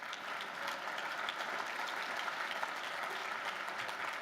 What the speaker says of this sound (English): You're supposed to clap right there.